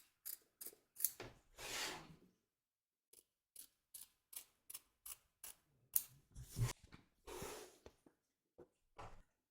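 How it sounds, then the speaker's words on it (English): Scissors trim excess fabric in a series of crisp, close snips, some quick and clustered, others longer cuts, separated by brief silences, with no talking. "Trim away the excess fabric from along here and here."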